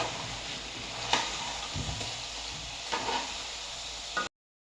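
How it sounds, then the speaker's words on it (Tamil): Korean fried chicken stirred in a pan, a soft continuous sizzle with a few scraping and tapping strokes of a spoon, close and steady, with no voices, ending abruptly in silence. "நல்லா கிண்டி எடுத்தாச்சு."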